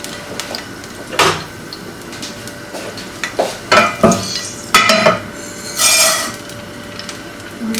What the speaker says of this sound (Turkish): Şimdi arpa şehriyelerimi önce şey yapacağım. Kavuracağım.